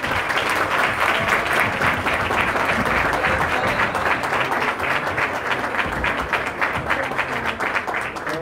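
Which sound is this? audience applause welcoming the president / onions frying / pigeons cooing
audience applause welcoming the president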